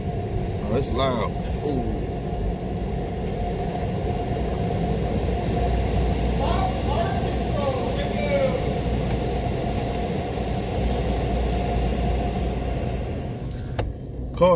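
Automatic car wash machinery runs as a steady, loud broadband rumble and whoosh throughout, with the car sitting in neutral inside the wash; a voice speaks briefly over the noise.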